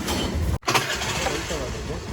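A scooter engine cranks after a brief silent pause and catches into a steady running hum, heard close with voices talking over it.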